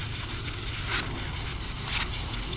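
Carburetor cleaner sprays onto a Stihl MS 270C chainsaw in two short aerosol hissing bursts about a second apart, close, over a low steady background hum.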